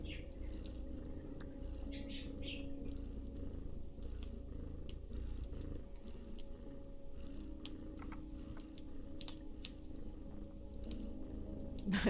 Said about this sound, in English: Cat purrs.